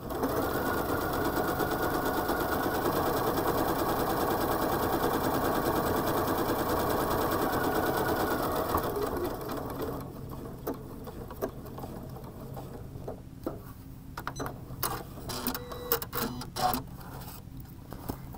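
A sewing machine runs satin stitching in a fast, steady mechanical whir for about nine seconds, then stops, leaving scattered light clicks and handling taps.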